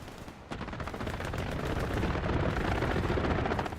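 A strafing run in the Hell Let Loose video game unleashes a dense, continuous roar of rapid gunfire and impacts, fairly faint and distant, building slightly in intensity.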